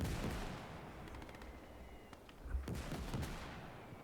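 Sporadic gunfire in the Gates of Hell game, a shooter firing from the bottom window of a house during a Finland skirmish; scattered sharp cracks, some distant, a louder burst toward the end.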